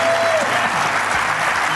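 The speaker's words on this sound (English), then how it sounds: "how about a round of applause? Can we hear it?" Live audience applause at a cybersecurity conference show, a steady dense wash of clapping from a crowd that holds even across the whole burst.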